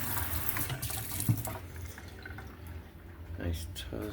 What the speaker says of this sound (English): There's running water.